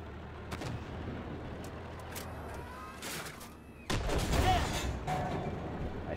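Tank cannon fire in the Armored Warfare game, involving a T-80 shooting at an M1: a few booming shots and impacts over steady engine rumble, with a louder blast near the end and no speech.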